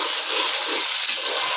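Garlic ginger paste drops into a hot pan with a little water while cooking potato rice, giving a dense, even sizzle and hiss that holds steady for a couple of seconds with no voices.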